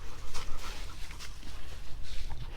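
Dogs pant hard and close by, in rapid rhythmic huffs, while playing with a ball outdoors, with faint whimpers and snuffles mixed in.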